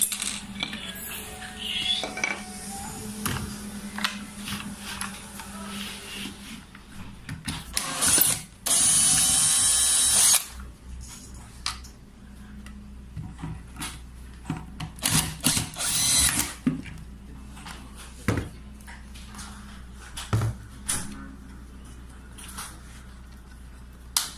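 A drill removes the screws from a double hung window, its short whirring bursts and ratcheting clicks coming up close over light metallic handling noises, with one loud sustained buzz in the middle.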